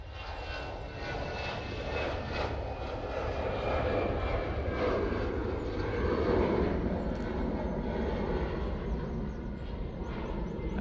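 Brussels Airlines airliner in Star Alliance livery departing Manchester Airport, a steady moderate engine roar that swells slightly midway, heard at some distance without any talking.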